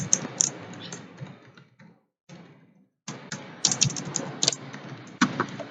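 Computer keyboard typing while a website navigation bar is coded, close bursts of quick key clicks with a brief pause in the middle, then a denser run of keystrokes.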